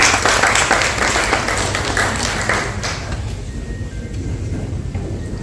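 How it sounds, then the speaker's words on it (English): Audience applause at a Raj Bhavan book event with the Governors of West Bengal and Goa, a dense burst of clapping that is loud at first and then thins and fades over a few seconds, with no speech over it. "Can we have some applause"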